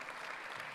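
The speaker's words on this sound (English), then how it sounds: "let's give a big round of applause for Perth Amboy" An audience applauds in honour of Perth Amboy at a Thomas Mundy Peterson Day event: a brief, steady wash of clapping that is moderately faint and fills the whole moment without a break.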